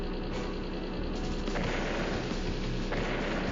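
An anti-air unit firing on a battlecopter in the turn-based strategy game Advance Wars: Days of Ruin, heard as a dense, continuous barrage of loud rapid shots with several sharper bursts.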